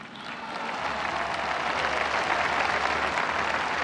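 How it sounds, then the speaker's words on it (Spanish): A large audience applauds during a presidential speech in Mexico, the clapping swelling in and holding as a broad, continuous roar heard from a distance. "un aplauso"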